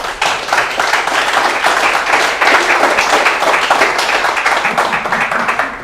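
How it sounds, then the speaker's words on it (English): A conference audience applauding a speaker, dense sustained clapping from many hands that swells, holds steady for several seconds, then begins to fade. "please, a big applause to Hugo"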